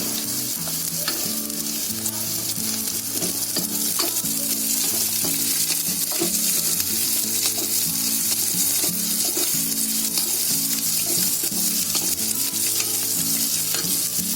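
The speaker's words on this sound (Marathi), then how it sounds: "आता त्याच्यामध्ये आहे ना आलं आणि लसूण टाकते" Onion with ginger and garlic frying in a pan, a loud, steady close-up sizzle with constant crackle and occasional stirring under it throughout.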